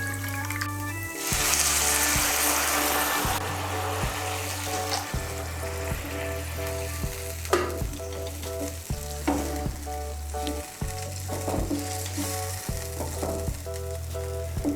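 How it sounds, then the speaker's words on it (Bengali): Hot water hits fried mung dal in a pan with a loud, bubbling sizzle that rises sharply near the start, then settles into steady frying crackle broken by repeated stirring scrapes and clinks, close and unvoiced. "এর মধ্যে আমি 1 কাপ আর হাফ কাপ গরম জল দিচ্ছি।"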